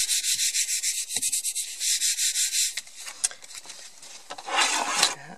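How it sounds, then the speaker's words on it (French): Excess paper is trimmed off the edge of a large handmade greeting card, producing close, rhythmic rasping strokes in steady pulses, followed by softer scraping and a louder rough burst near the end. "Et ensuite, je viens découper l'excédent."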